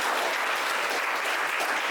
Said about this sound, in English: So I request all of you to give him a big round of applause.